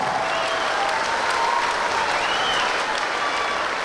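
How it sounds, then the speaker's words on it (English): A boxing crowd applauds both fighters after an opening contest, steady dense clapping filling the arena without a break. "a big round of applause to both fighters for a fantastic opening contest."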